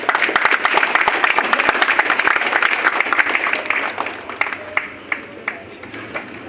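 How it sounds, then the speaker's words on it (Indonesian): Audience applause at a political gathering, a dense wash of clapping that swells briefly and then thins out into scattered individual claps. "Boleh tepuk tangan?"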